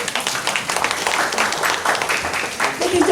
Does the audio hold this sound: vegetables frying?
no